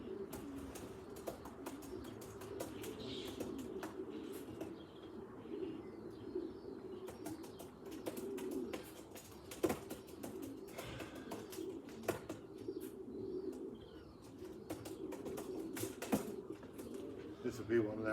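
Racing pigeons coo softly at a race finish, with low, continuous cooing and occasional wing flaps, faint and spread over a steady background murmur.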